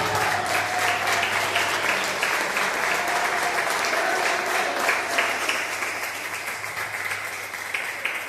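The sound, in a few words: congregation applause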